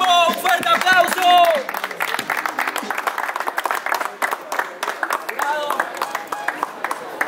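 Audience applause and cheering after a freestyle rap battle round in Guayaquil: a crowd claps in a dense, sustained wash that begins under a loud announcer's voice and keeps going steadily for several seconds.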